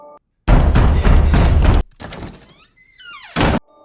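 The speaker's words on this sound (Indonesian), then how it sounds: "Di sana, ia mendengar suara gedoran pintu." Heavy thuds pound on a door in a horror film scene, two long bursts of rapid, loud banging, followed by eerie rising and falling tones and one short final knock burst.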